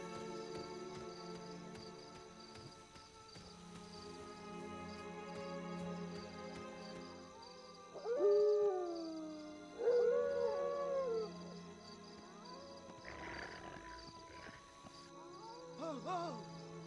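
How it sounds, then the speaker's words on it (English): Wolf howls from the 2002 Lord of the Rings: The Fellowship of the Ring PS2 game, several rising, wavering calls over a low ambient game soundtrack, with a fainter howl near the end. "That howl makes it sound like there's more of them out there."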